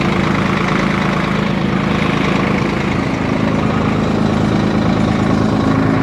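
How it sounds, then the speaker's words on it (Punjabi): A tractor engine runs steadily nearby during flood desilting work in Punjab, a loud constant low chugging drone that never changes pace. "ਆਪਾਂ ਵੀ ਟਰੈਕਟਰ ਚਲਾ ਕੇ ਵੇਖ ਲਈਏ ਯਾਰ"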